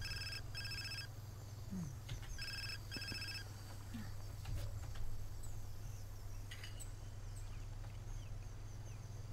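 Phone ringing in The Sims 4, a faint electronic ring in short repeated bursts over a steady low game background hum.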